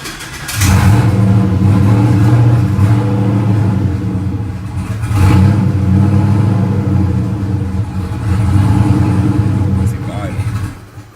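A car engine cranks, fires up and runs in loud, rumbling bursts, dying and restarting for lack of fuel pressure, recorded close.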